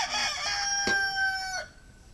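Rooster crowing loudly nearby in one long strained call with a sharp break partway through, standing alone with no voices over it.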